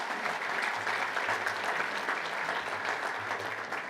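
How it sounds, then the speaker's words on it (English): An audience at a fundraising luncheon applauds, a dense, steady wash of many hands clapping together at close range, sustained evenly for the whole stretch without voices. "that's a lovely applause"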